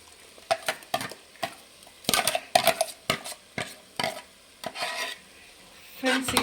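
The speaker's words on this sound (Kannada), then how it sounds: "ಈ ಮಸಾಲೆನ ಸ್ವಲ್ಪ ಹಸಿ ವಾಸನೆ ಹೋಗೋವರೆಗೂ ಫ್ರೈ ಮಾಡಬೇಕು" Ground masala paste fries in a pan for menthya bath while a spatula stirs it, giving irregular scrapes and metallic clinks over a faint sizzle.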